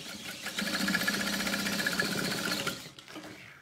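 A sewing machine stitches down one side of a zippered fabric pouch in a fast, even rhythm for a few seconds, then stops abruptly, close and clear.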